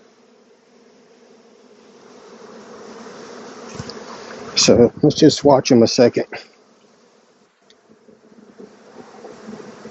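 A dense, steady buzz of a honeybee swarm hums throughout, while a close voice speaks briefly in the middle.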